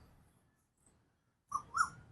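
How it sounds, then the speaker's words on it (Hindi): Birds in a garden give two brief, bright chirps in quick succession after a near-silent stretch. The calls are faint and sound somewhat distant, with no voices present. "परिंदों के चहचहाने की आवाज़ें सुन रहे होंगे"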